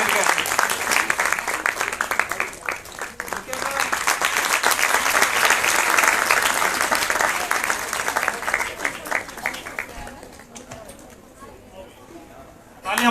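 Audience applause for students at a science festival in Uttarakhand: a dense crowd clapping that holds steady for several seconds, then thins out and fades toward the end.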